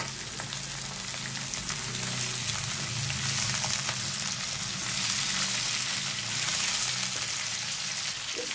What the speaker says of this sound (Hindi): अब हम ये डालेंगे, बीफ है 3